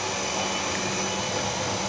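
A Takamaz X12 lathe with a Fanuc 16i control runs with a steady, even broadband whir and hiss that holds level the whole time, with no talking.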